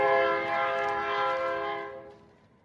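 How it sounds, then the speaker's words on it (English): A recorded train horn from a desert setting sounds one long, steady multi-tone blast that holds loud and then fades out near the end, with no talking. "Now I'm going to play a train horn from the desert."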